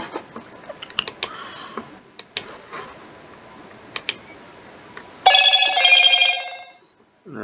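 A phone rings loudly for about two seconds near the end of the War Commander gameplay, a bright electronic ringtone burst that follows scattered faint clicks and taps.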